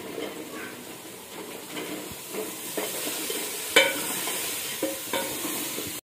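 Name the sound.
vegetables frying in spice masala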